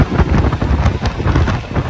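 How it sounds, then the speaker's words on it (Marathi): Light drizzle falls steadily on a fully wet road on a rainy trip to Bhimashankar, a dense, continuous hiss with no pauses and no voices. "पाऊस पडतोय, बारीक बारीक बारीक बारीक पाऊस पडतोय"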